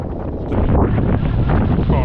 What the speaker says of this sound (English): Put it about 30 mile an hour wind.